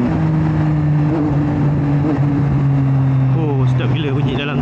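A modified motorcycle exhaust with a newly fitted, untuned system drones loudly and continuously inside a tunnel, rising in pitch as the rider revs near the end.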